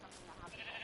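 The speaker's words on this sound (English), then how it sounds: "Oh, did not mean to punch the sheep." A sheep in the Minecraft video game bleats after being punched, a short wavering game sound effect heard alone over faint background noise.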